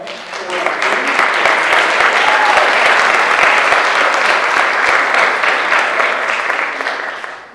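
Sustained applause from an audience at a live pitch competition event, a dense, steady wash of many hands clapping close and loud for several seconds before tapering off at the end.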